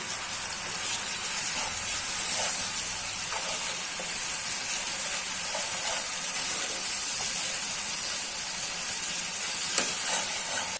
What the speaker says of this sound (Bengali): হালকা মশলাটা কষাই দিচ্ছি